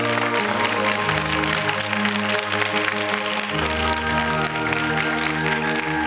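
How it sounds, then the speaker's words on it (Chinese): Sustained applause from an audience at a quiz-competition award ceremony, steady and fairly loud over a music track playing underneath. "给他们一个热烈的掌声"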